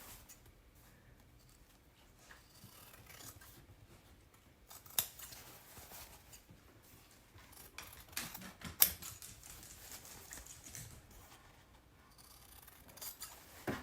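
Scissors snip quilt fabric close to a stitch line on a quick quilt-as-you-go snowman table topper, giving faint, scattered crisp cuts and rustles with a few sharper clicks, quiet and close.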